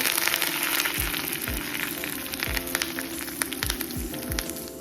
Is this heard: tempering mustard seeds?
yes